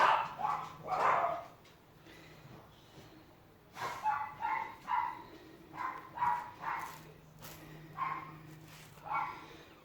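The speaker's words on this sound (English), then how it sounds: "my next door neighbour's dogs" Several dogs next door bark in repeated bursts at moderate distance, a cluster early on and then a steady run of barks through the second half, with a low hum underneath.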